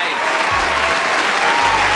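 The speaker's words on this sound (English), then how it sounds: "we'll give you a round of applause now" Audience applause rolls through a room during an interview, a steady, continuous wash of clapping with a faint low voice underneath.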